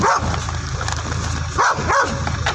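A dog barks in a few short, sharp bursts at moderate distance over a steady background hum, with no talking, following a scene where a volunteer was bitten and knocked down.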